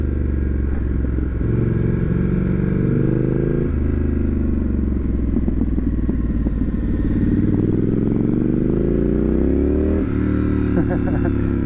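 A lightweight motorcycle rides a curvy stretch of Route 32 south near Cosby, Tennessee, its engine rising and falling in pitch through repeated revs and shifts, loud and close with steady wind rush.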